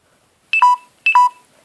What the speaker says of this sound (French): désolée pour ce bruit, c'est parce que j'ai plus de batterie.